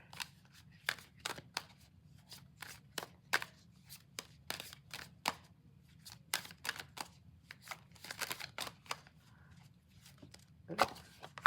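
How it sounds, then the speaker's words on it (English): Tarot cards being shuffled by hand during a reading, a quiet run of crisp, irregular snaps and riffles with short pauses between bursts, close to the microphone and otherwise near silent. "I got to get my shuffling together."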